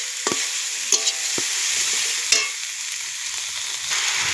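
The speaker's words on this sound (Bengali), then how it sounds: "রসুন মরিচটা শুটকি মাছটা ভাজি নাম আগে" Garlic, green chilies and dried fish frying in a pan give a continuous crackling sizzle, punctuated by several sharp scrapes and clacks of a spatula stirring.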